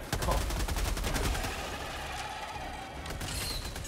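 Automatic weapon fire in a video game: a rapid, loud burst of closely spaced shots rattles for about a second and a half, then fades into quieter background game sound.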